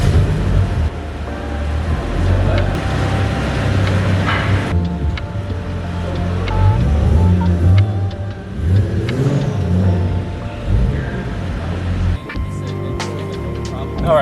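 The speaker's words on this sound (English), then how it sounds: "Then we just go for a little test drive" A Toyota JZX100 car drives off on a short test run, its engine revving and accelerating at mid pitch, with a voice talking over the steady motor noise throughout.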